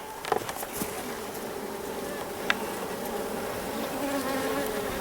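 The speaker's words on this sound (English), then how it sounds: "look at the bees in the second deep" Honeybees packed wall to wall in the second deep box of a hive buzz in a continuous, soft, close drone, with occasional brief louder passes near the start and no talk.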